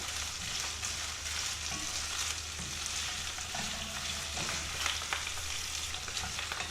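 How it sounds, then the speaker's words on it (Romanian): Mushrooms frying in a pan beside browned pork, a dense, constant sizzle with faint scrapes of stirring scattered through it, steady and close, no speech. "După ce s-a rumenit, adăugăm ciupercile. Amestecăm și mai lăsăm un minut."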